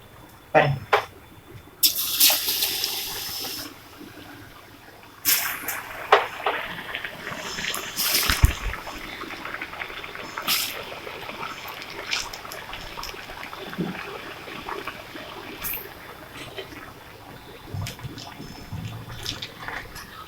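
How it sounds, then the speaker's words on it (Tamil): Bitter gourd slices fry in hot oil over medium flame with a continuous sizzle and crackle, punctuated by occasional louder pops and utensil clatter, close by. "இதை வந்து பொரிக்கும் போது நல்ல மிதமான தீல மீடியம் ஃப்ளேமில் வச்சு பொறிங்க"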